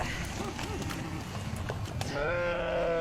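Fat-tailed sheep grazing on a hillside give a quavering bleat near the end, rising clearly above a steady outdoor rustle, with a voice talking earlier.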